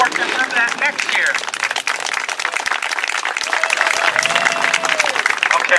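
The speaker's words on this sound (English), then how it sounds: "I get one more round of applause for Don" An outdoor crowd at a community remembrance walk applauds steadily, a broad continuous clatter of many hands, with voices talking over the clapping.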